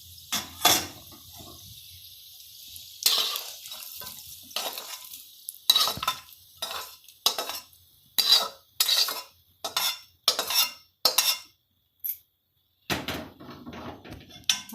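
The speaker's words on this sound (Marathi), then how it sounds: "आता हे मसाल्याचे जिन्नस आपण सगळे भाजून घेतले छान" Malvani masala spices and nutmeg being dry-roasted in a pan, heard as repeated bursts of dry scraping and rattling as they are stirred, with short quiet gaps between the strokes.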